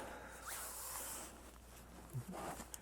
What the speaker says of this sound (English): There's a zip.